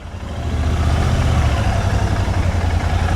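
An engine with a worn-out clutch plate drones loud and close, holding a steady low hum that rises slightly and then stays level under constant road-like noise, with no talking.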